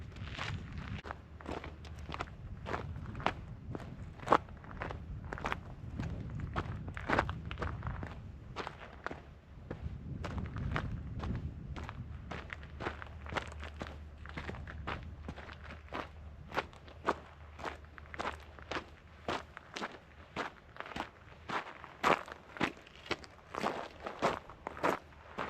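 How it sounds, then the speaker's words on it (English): Hiking shoes tread along a desert road in an even walking rhythm, each step a crisp, close crunch on grit, with a low rumbling background between steps. "Oh, my shoes are so loud right now."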